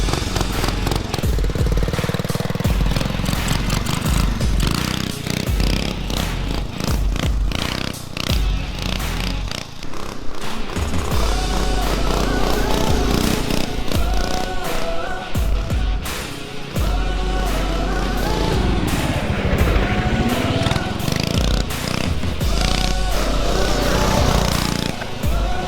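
A small mini bike engine runs continuously, buzzing and revving with fluctuating pitch and a few brief dips, loud and close throughout.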